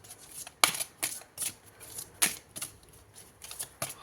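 A deck of tarot cards is shuffled by hand up close: soft, rhythmic papery riffles and slaps arrive in short bursts about every half second, quiet and alone.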